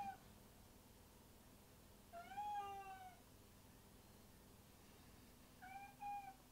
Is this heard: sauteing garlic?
no